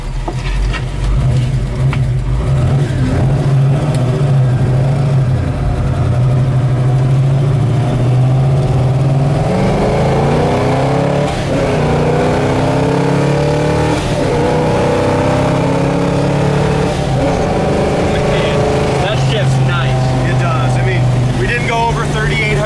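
A big-block 1966 Chevelle cruising in fourth gear at highway speed, its engine a steady low drone with road and wind noise throughout, while people talk over it inside the car.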